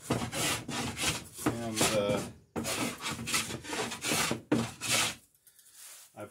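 A hand saw cuts wood during the building of a traditional New England style wooden boat, working in a cramped space under a loft. Steady, close, rhythmic rasping strokes continue before they stop, and a single spoken word is heard.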